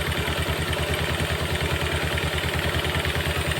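Yamaha Jupiter MX motorcycle engine idling with its carburetor uncovered and no air filter, a steady, loud, even putter with a fine regular clatter, close up and without talk.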